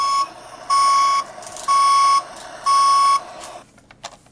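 Hess toy truck's reversing alarm gives three steady, evenly spaced electronic beeps, clear and close, followed by faint handling clicks.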